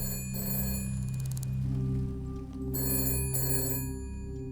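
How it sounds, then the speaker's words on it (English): A telephone rings in a detective video game set in a gloomy city, a bright repeating electronic ring in bursts over a steady, droning music bed. "The phone rings."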